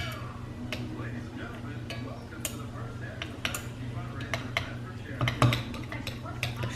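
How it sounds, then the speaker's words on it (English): A spoon scrapes and clinks against a ramen bowl of shrimp, mushrooms and egg yolk, light irregular taps and clatters that grow a little louder near the end, over a steady low hum. "Just mixing up some of the egg yolk."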